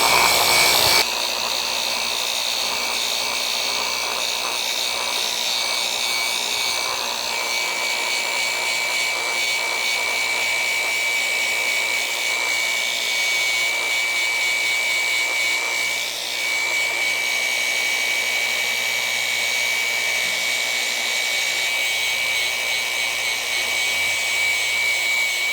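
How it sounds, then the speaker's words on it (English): A rotary sander with 180 grit paper grinds steadily against the aluminum shell of a MacBook Pro, a loud continuous high-pitched whine and rasp running unbroken throughout with no talking. "We're starting out at 180 grit on a rotary to try and get this protective coating off here down to the raw aluminum."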